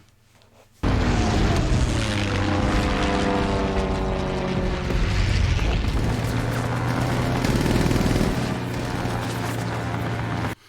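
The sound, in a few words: WWII aircraft flying in Masters of the Air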